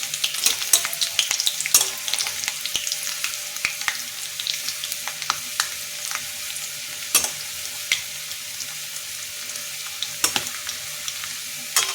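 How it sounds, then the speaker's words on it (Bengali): Potato and raw egg fritters (bada) sizzle steadily in hot oil in a home kitchen, a continuous crackling fry with sharper pops and spatters scattered throughout, close and fairly loud, with no voices. "উল্টে দিয়ে আমি এবার আস্তে আস্তে ভাজতে থাকব।"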